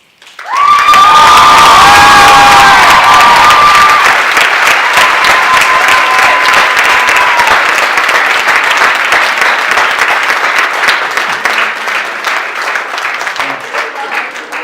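Loud, sustained applause with cheering and whoops from a crowd after a slam poetry performance, dense clapping filling the room from start to finish.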